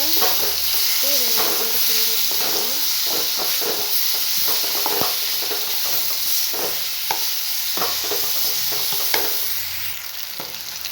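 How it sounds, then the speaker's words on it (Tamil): A banana mixture is stirred in a pan over a medium flame. A constant hissing sizzle sits under repeated close scrapes and taps of the spoon, and it fades slightly at the end. "நல்லா கிண்டி வச்சுக்கோங்க."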